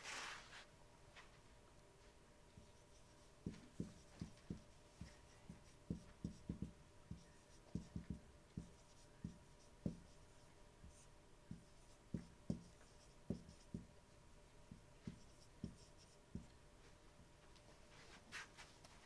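A teacher writes notes during a chemistry lesson, producing a quiet series of quick chalk-like taps and strokes in irregular clusters against a faint room hum.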